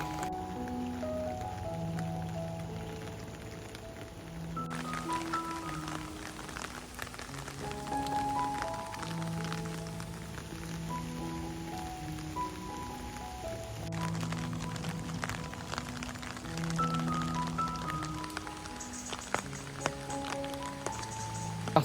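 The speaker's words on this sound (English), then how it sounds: "the rain is a little less heavier now" Rain falling in autumn at Bathpool, Kidsgrove during a thunderstorm, a steady broadband patter on surfaces heard continuously under layered music for the whole stretch, easing from heavier downpour.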